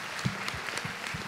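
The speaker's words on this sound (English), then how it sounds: "This is the time for applause" Applause at a jubilee celebration evening, a short burst of scattered clapping from the audience at a moderate, steady level.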